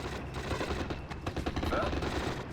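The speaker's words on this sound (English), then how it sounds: "they can fire the submachine guns on the move" Rapid submachine gun bursts from infantry firing on the move in the WWII strategy game Steel Division: Normandy 44, dense crackling gunfire layered with battlefield noise and a voice talking over it.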